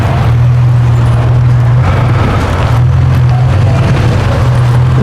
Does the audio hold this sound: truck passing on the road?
yes